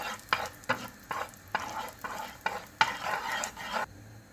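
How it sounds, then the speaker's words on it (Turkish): Red chili powder stirred into melted butter in a pan for a mütebbel sauce: about eight regular spoon strokes scrape and swish close up over a soft sizzle, with no talking. "Üzerine bir tatlı kaşığı kırmızı toz biberimizi ilave ediyoruz ve malzemelerimizi karıştırıyoruz"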